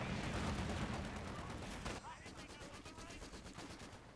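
Rapid machine gun bursts and scattered gunfire from a Company of Heroes 2 battle, a dense rattling volley that thins into sparser repeated shots in the second half.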